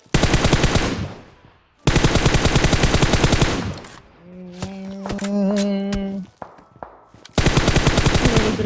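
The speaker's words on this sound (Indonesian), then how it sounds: "Dari gereja nembak tuh." Gunfire in PUBG Mobile: loud bursts of rapid automatic fire in three long volleys, separated by gaps where a tonal in-game sound and scattered single shots are heard.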